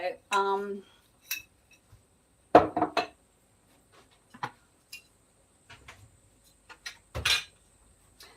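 Kitchen utensils and dishes being put away, with scattered clinks of cutlery and clatters of crockery between pauses while a meal cooks, and a voice speaking briefly at the start.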